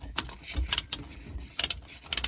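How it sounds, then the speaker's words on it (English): A ratchet and socket work a bolt on a 951 DI direct-injection jet ski engine, giving quick bursts of sharp metallic clicks in several short clusters, close up over faint handling noises. "revert back to my ratchet and socket"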